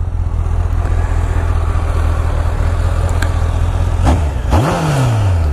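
A 2000 Honda CBR1100XX Super Blackbird in stock form idles with a loud, steady, close-up rumble, then gives two quick throttle blips that rise and fall sharply.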